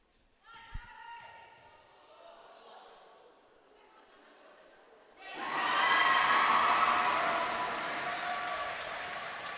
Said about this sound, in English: There's a little shout from the crowd.